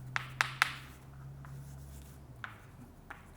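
A teacher writes on a board in a classroom: three sharp taps of chalk or marker at the start, then softer scratching strokes and a couple more isolated taps over a low steady hum, no talking.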